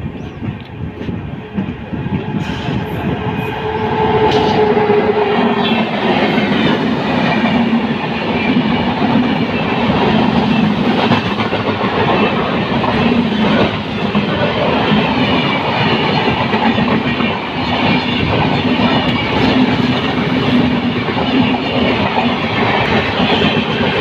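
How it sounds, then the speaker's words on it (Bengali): Kamakhya–Delhi Brahmaputra Mail rushing past on the opposite track, heard from inside another moving train in India: a loud, steady roar with continuous clattering wheels that holds for the whole stretch, no talking. "এখন আমাদের সাথে দেখা হবে কামাখ্যা দিল্লি ব্রহ্মপুত্র মেলের সাথে। যেই ট্রেনে আমি আছি, এটা আপ আর এটা হচ্ছে ডাউন।"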